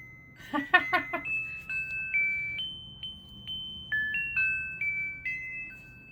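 After a brief clatter, a kitchen timer alarm plays a repeating melodic sequence of beeping tones, each note stepping up or down in pitch.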